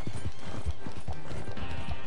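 Rapid, close hoofbeats of a galloping horse in Red Dead Redemption 2 drum out a steady, loud rhythm with a faint neigh mixed in.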